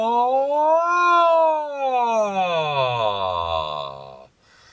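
A voice imitates a slow-motion siren, a sustained sung tone that sweeps up, then slides slowly down in pitch over several seconds before stopping.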